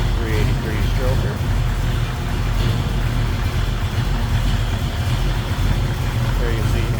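A 383 stroker V8 in a 1966 Chevrolet Nova idles with a steady low rumble, heard under someone talking throughout.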